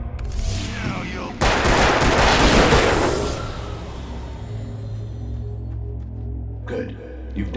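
Rapid burst of gunfire in the video game Alan Wake, a loud dense volley lasting a couple of seconds then fading into rumbling ambience, with a brief clatter near the end.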